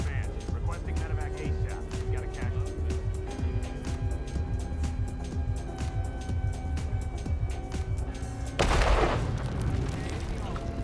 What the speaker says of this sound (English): Not that we needed a collateral explosion there, but I wanted one